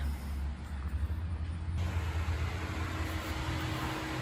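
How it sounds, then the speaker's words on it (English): Steady, fairly quiet fan noise, a constant whooshing hiss over a low hum, unbroken throughout with no talking. "I'm sorry about any fan noise you guys hear"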